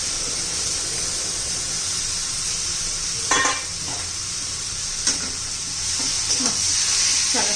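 Crushed ridge gourd drops into tomatoes frying in a hot pan for a spicy thecha, with a steady loud sizzle throughout. A few sharp bursts of hissing and scraping mark the gourd going in and being stirred.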